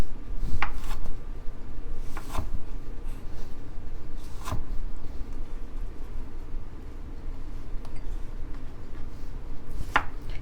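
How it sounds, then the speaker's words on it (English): A knife chops a tomato on a cutting board while making chicharron a la Mexicana, a few sharp, sparse thunks spaced irregularly over quiet kitchen background, no talk. "You can chop the tomato"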